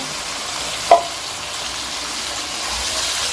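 Tomato paste for biryani hisses in a pot as a steady, soft frying wash, with a single sharp scrape of the spoon early on and otherwise even, close sizzling.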